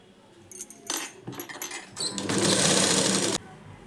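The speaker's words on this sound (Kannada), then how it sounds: "ಇವಾಗ ನಾನು ಸ್ಟಿಚಿಂಗನ್ನು ಮಾಡ್ಕೊಳ್ತಾ ಇದ್ದೀನಿ." A sewing machine stitches a blouse in short bursts, then runs in one steady, loud stretch close by before stopping abruptly.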